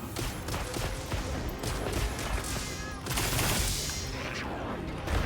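Light bowgun firing special ammo in the Monster Hunter Wilds video game, a dense barrage of rapid gunfire and explosive bursts continuing without pause, loud and busy throughout.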